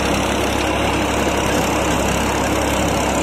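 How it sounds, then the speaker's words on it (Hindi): A New Holland 3600-2 tractor drives a rotavator at high RPM, a loud, steady, close engine drone with a dense churning rumble that never lets up. "साउंड भी सुन सकते हैं रोटावेटर के RPM के, इतना फास्ट घूम रहा है रोटावेटर"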